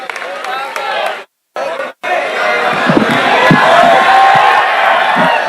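A crowd at an All India Mushaira poetry gathering in Kennedy Auditorium, Aligarh, greets the poet Moin Shadab with dense applause mixed with cheers and whoops. The sound is broken by two brief dropouts, then swells and stays full to the end.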